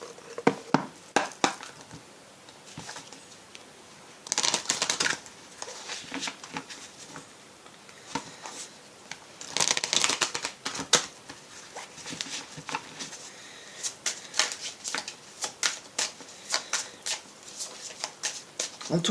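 Fairy oracle cards are shuffled by hand in quick papery bursts, riffling and sliding close up in uneven rhythm with short pauses, with no talking.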